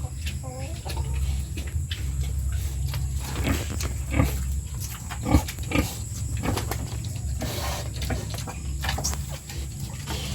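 Pigs on a pig farm grunt and squeal in a continuous noisy pen, several animals at middle distance over a steady hum, with scattered louder squeals breaking through.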